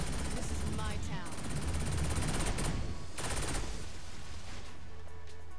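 Dense gunfire in the video game Saints Row IV, loud and continuous with rapid automatic bursts layered over rumbling blasts and no pauses.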